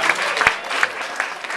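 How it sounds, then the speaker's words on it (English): A comedy club audience gives a short burst of scattered clapping, fairly close and lively, lasting barely two seconds. "You guys can clap real quick"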